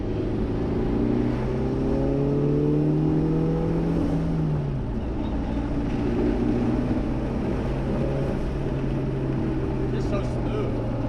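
A Mitsubishi Evo wagon's engine holds full throttle with the ignition cutting in, making a loud, continuous droning roar heard from inside the car, its pitch sliding and then levelling off, with voices in the cabin.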